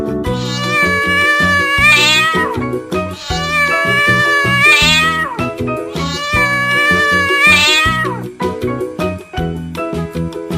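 A cat meows three times in long, drawn-out calls at a steady interval, loud and close, over continuous background music.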